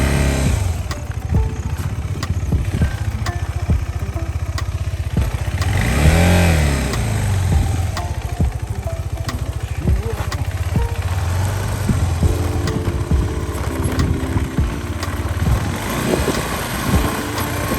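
A motorcycle engine drones steadily at close range, rising as it revs and accelerates, then settling back to a rumbling cruise.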